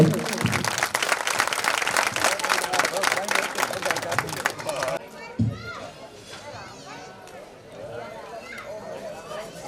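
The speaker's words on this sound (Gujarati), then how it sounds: "જોરદાર તાળીઓ સાથે" Loud applause at a temple donation ceremony during a goddess consecration festival rings out for several seconds, then drops away to children's chatter, scattered voices and movement in the crowd.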